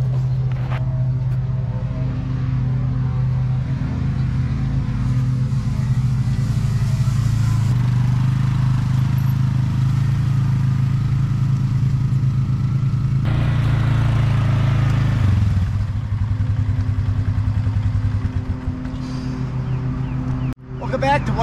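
A 4-wheeler ATV engine runs steadily at close range, a loud continuous drone that shifts in pitch midway and drops off near the end, with a voice speaking over it.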